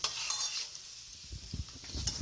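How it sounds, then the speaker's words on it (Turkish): Soft sizzling hiss of hot fried tomato paste hitting boiling soup, followed by a few wet splashes and stirring clinks, close and fairly quiet. "Şimdi ben bunu altını kapatıp çorbanın üzerine döküyorum."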